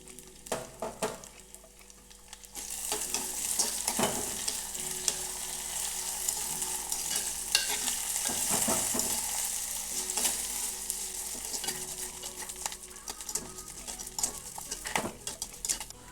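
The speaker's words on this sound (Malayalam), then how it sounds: "ഇനി ഇതിലോട്ട് രണ്ട് മൂന്ന് പച്ചമുളക് നീളത്തിൽ കട്ട് ചെയ്തതും കൂടെ ഇട്ടുകൊടുക്കാം ഒരു തണ്ട് കറിവേപ്പില ഇട്ടുകൊടുക്കാം" Sliced green chillies and curry leaves hit hot oil in a pan, setting off a bright loud sizzle that holds steady, with occasional utensil knocks close by and no speech.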